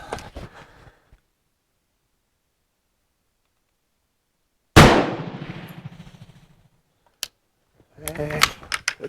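A Hakim rifle, the Swedish-designed semi-automatic, fires one sharp, loud shot that rings and decays over about two seconds, with short bolt-handling clicks and brief talk before and after.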